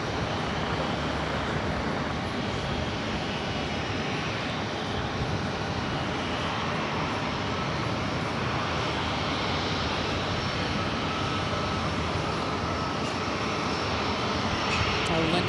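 A jet airliner comes in to land on runway 22 left at New York's JFK airport, a loud steady engine roar filling the whole stretch with distant traffic hum beneath it.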